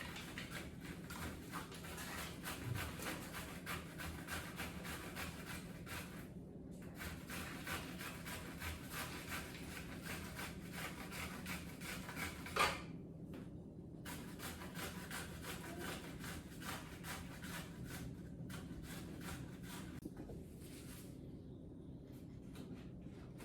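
Courgettes are rubbed against a grater in a steady, raspy back-and-forth scraping for scones, faint and close, with a few brief pauses and no voices.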